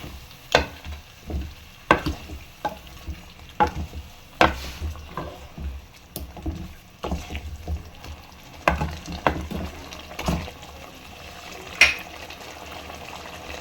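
Ground onions are stirred and fried in a karahi for white chicken karahi, a soft steady sizzle broken by repeated scraping stirs of a spoon, close and fairly quiet, with no talk.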